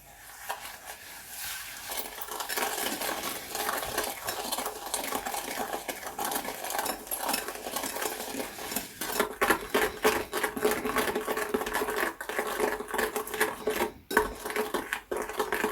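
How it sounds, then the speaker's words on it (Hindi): Egg and sugar being beaten together for chocolate fudge brownie batter, with a fast continuous whisking rattle against a bowl, close and steady throughout. "हमने 1 एग ऐड करके उसको अच्छे तरीके से बीट करना है शुगर के साथ"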